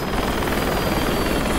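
A video-game helicopter drones steadily with a dense, continuous rotor-and-engine roar, close and uninterrupted for the short stretch.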